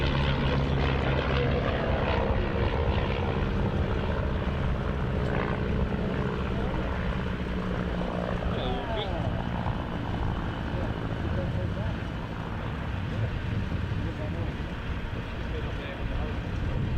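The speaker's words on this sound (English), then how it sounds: "Here come the 2 classic wings Tigers in for a nice break." Two Classic Wings Tiger biplanes fly past at an airshow, a steady propeller and engine drone that holds loud for the whole stretch while a commentator talks over it.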